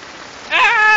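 Hailstones falling on a roof during a Philippine hailstorm, a soft patter that swells halfway through into a louder, ringing clatter of ice striking the roofing.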